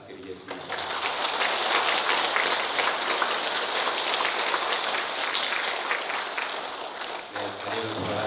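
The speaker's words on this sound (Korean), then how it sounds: "축하 격려 박수 부탁드리겠습니다" A congregation at a Catholic Mass bursts into dense, steady applause after the bishop of the Uijeongbu diocese presents certificates, sustained for about seven seconds before tapering off into a voice.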